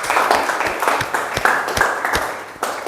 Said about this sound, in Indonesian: Silakan tepuk tangan dulu anak-anak.